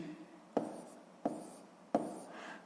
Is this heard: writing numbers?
yes